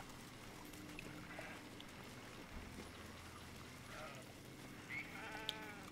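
Sheep bleating in the fantasy video game Baldur's Gate 3, a few faint, wavering bleats over a steady low ambient background.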